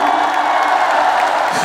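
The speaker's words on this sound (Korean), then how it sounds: "가수가 이렇게 무반주 노래를 부를 때는 박수와 함성 소리 아끼지 않으셔도 돼요" Concert audience at an MG Saemaul Geumgo music show cheers and applauds in a dense, steady roar of claps and shouts, loud and continuous throughout.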